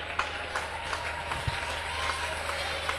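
A church congregation applauds steadily throughout, a dense wash of clapping with a low hum underneath.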